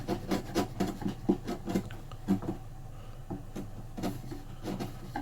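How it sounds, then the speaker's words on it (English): A chisel trimming wood on an acoustic guitar build, with short close scraping strokes in quick runs separated by brief pauses. "I'll just finish it off with a chisel, any little parts there"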